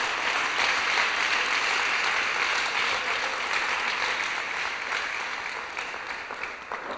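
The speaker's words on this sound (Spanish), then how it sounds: "Dele un aplauso al Señor, hermano, esta noche, pues." A church congregation claps during a Sunday evening service: continuous, full applause that stays loud, then slowly thins and softens toward the end.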